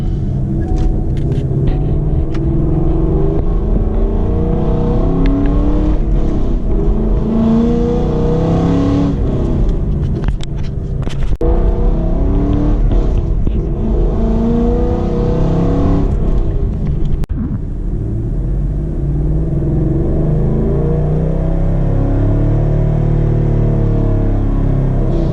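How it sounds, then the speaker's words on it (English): A 2015 Ford Mustang driving and accelerating, its engine rumbling and revving loudly and steadily from inside the car with rising and falling pitch, easing off near the end. "I'll do some driving clips on the way back over to the house"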